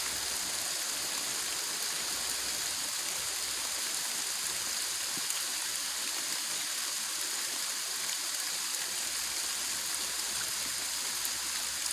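Rain falls on a converted bus parked for living, a soft, steady patter and hiss that stays even and fairly quiet from start to finish.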